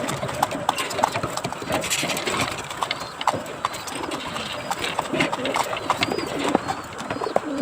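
Domestic racing pigeons at feeding time, cooing and fluttering close by while grain is scattered, with a continuous busy bed of pecking, shuffling and wing flaps throughout.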